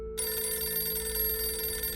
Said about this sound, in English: the phone rang once again.